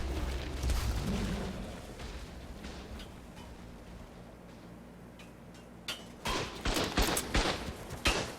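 Repeated gunfire from a video game match in a charity tournament, a dense volley of shots at moderate level with a sharper, louder burst of cracks near the end.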